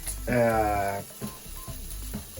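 Pancetta sizzles and renders its fat in a hot pan, a bright burst of frying crackle that swells for under a second, then drops to a quieter intermittent spitting.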